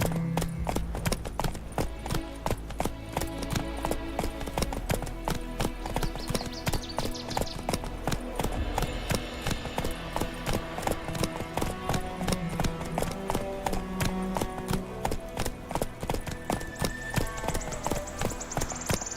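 Roach, a horse in The Witcher 3, gallops with a steady, fast clip-clop of hooves close by, set against loud game music throughout.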